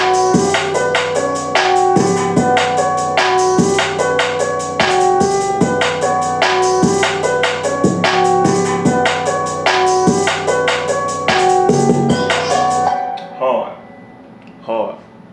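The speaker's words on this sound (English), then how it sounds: "my open hats, which are one of my favorite percussion sounds" A simple hip-hop beat with open hi-hats layered in, thumping kick and snare under sizzling hi-hat hits in a steady loop, loud and upfront for about thirteen seconds before cutting off into a few sparse, quieter sounds.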